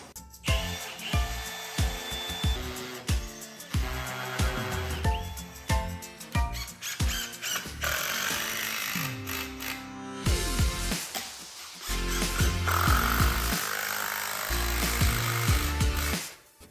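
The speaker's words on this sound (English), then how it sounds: "we're attaching the 2x4 to our concrete floor so we can attach our cabinets to this" A power tool fastens a 2x4 to a concrete floor, with repeated short bursts of whirring and knocking, then a longer, louder sustained drive near the end, close and alone without talk.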